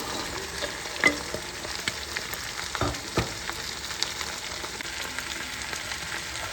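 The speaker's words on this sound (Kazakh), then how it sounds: "Қуырылып жатыр сәбіздің етіміз." Meat and carrots fry in oil for Uzbek plov, a soft steady sizzle with sharp pops and stirring clatters scattered throughout, fairly quiet and with no voices.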